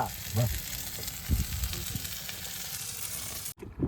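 Shrimp fry in a pan on a boat in the Sundarbans, a constant close sizzle with a few low thumps and clatters, cutting off abruptly near the end.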